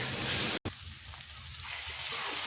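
A tomato, ginger and green chilli spice paste sizzles steadily in a kadhai while salt is stirred in, giving a close, constant frying hiss with a brief break.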